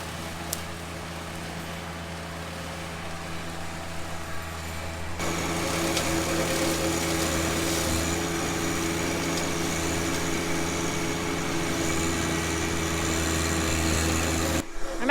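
A John Deere 1025R compact tractor runs with a bush hog mower attached, its engine droning steadily and fairly close, then growing louder and rougher partway through as the load increases, with no voices.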